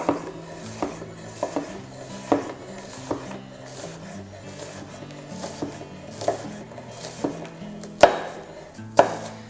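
A knife rocking through an onion on a cutting board, irregular sharp taps over a soft background, two louder strikes near the end, with music playing underneath.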